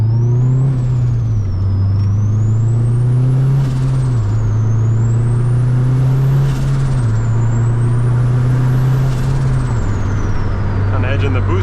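A big-turbo Honda Accord accelerates hard through the gears in town. Its engine drone climbs and drops at each shift while a loud turbo whistle spools up over three pulls, close and continuous.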